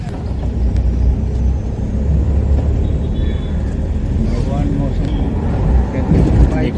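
A car carrying a wedding party in Mithila rolls along the road, its engine and tyre rumble steady and close throughout, with the passengers' voices mixed in beneath the drone.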